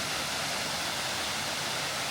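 Water rushes steadily beside a mountain trail at Kongens Utsikt near Hønefoss, Norway, a dense continuous roar of flow with no voices.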